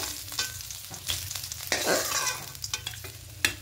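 A fish head fries in oil, a soft, fairly quiet crackle close by, with scattered clinks and scrapes from stirring or turning and one brief louder sputter midway, no voices.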